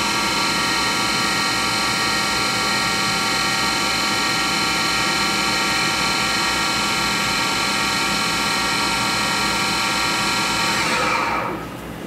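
Spindle of a Haas VF0 vertical machining center runs at 3,000 RPM, a loud, steady, tonal mechanical whine with layered harmonics holding constant, then winding down abruptly near the end.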